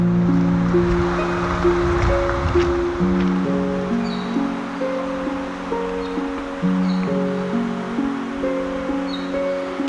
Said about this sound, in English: the birds, the river water running, everything.